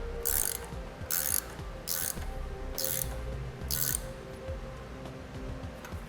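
A ratchet wrench tightens taped 3/8 and 1/4 pipe fittings into a T for an air braking system. There are five short bursts of rapid clicking at a steady pace, close up, with quiet workshop hum between them.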